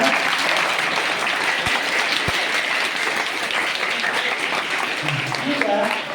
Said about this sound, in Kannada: ಎಲ್ಲರೂ ಚಪ್ಪಾಳೆ ತಕ್ಕುವ ಮೂಲಕ